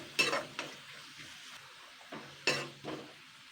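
Spinach with salt, turmeric and sugar stirred in a pan, with a few distinct scraping strokes of the spoon against the pan at irregular intervals over a quiet background.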